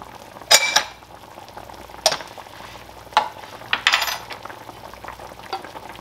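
Chopped onion frying in a pan for a chicken-in-cream dish, a low steady sizzle broken by several sharp utensil scrapes and clinks against the pan.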